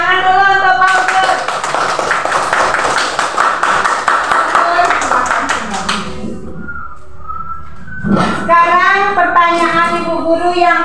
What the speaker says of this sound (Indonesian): Tepuk tangan dulu untuk Fauzul.